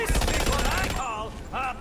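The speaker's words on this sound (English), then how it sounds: "Stop shooting it." Rapid gunfire from the video game Batman: Arkham Origins, a dense burst of repeated shots that cuts off after about a second, leaving game voices and music with a brief tonal sound near the end.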